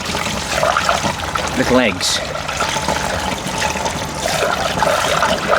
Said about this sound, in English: so let's get this poured into one of the containers